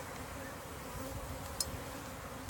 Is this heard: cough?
no